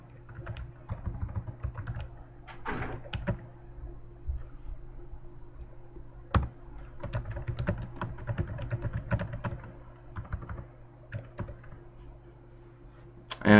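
Fingers type on a computer keyboard in quick irregular bursts of light clicks, close and fairly quiet over a faint steady hum.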